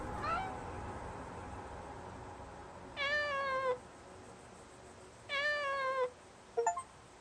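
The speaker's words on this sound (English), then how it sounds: "A free cat!" Cat meowing inside a horror video game, two clear drawn-out meows about two seconds apart over a low ambient hum, followed by a brief tail of sound.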